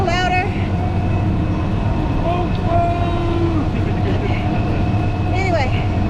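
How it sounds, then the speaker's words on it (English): Train passing close by outdoors, a loud steady rumble with wailing horn blasts that rise and bend in pitch; a voice talks over it now and then. "there's a train coming"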